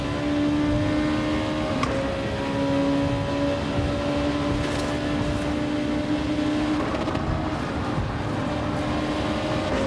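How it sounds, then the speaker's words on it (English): Race car engine in the Gran Turismo 7 racing game held against its rev limiter, a loud, sustained droning whine that stutters slightly, under a constant roar of road and engine noise. "And I've hit the rev limiter."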